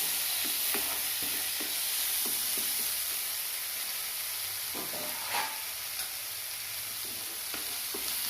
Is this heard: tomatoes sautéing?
yes